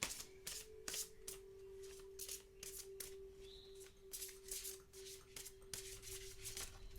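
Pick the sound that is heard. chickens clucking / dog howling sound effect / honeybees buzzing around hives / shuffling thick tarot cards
shuffling thick tarot cards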